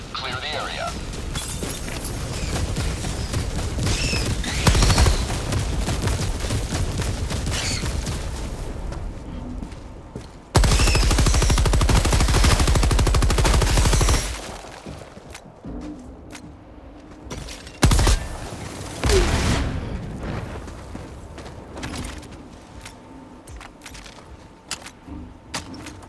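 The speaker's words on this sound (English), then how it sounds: "Firing orbital barrage. Clear the area." Orbital barrage explosions in the video game Helldivers 2, loud booming blasts rolling in waves, with a heavy burst near the middle and scattered impacts later, under game voice lines and battle noise.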